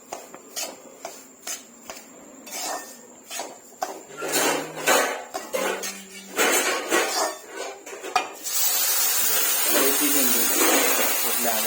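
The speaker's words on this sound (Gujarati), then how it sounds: "આપણે રવા શેકવાનું કામ હજુ પણ ચાલુ જ છે" Semolina roasting in a pan on a gas stove, stirred with a metal spoon that clanks and scrapes irregularly against the pan, followed by a steady loud hiss.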